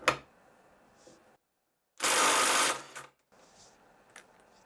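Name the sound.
Parkside PDSSAP 20 Li C3 impact driver in second gear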